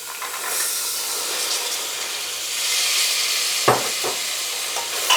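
Soaked rajma kidney beans sauté in spices with a loud, steady hissing sizzle, joined near the end by a few distinct knocks and scrapes of a spoon stirring the pan.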